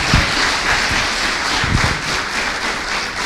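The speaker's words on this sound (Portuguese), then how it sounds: "Dá uma salva de palmas." Applause at a Sunday church service, a loud, even wash of clapping with a few sharper claps standing out near the start and middle.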